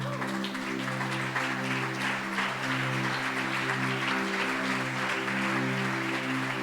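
A church congregation applauds steadily and loudly during a Spanish-language sermon, sustained clapping with a low sung or organ-like tone beneath it.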